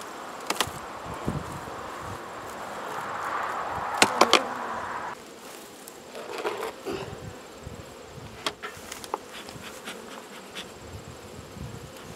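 Bees buzz steadily in a dense drone, with a louder close-up hum early on that drops away, leaving a fainter buzzing swarm.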